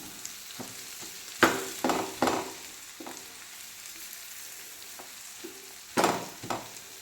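Egg masala is chopped and tossed kothu parotta-style on a hot griddle, Madurai style: a steady close sizzle broken by several sharp metal clangs in short bursts, with no voices.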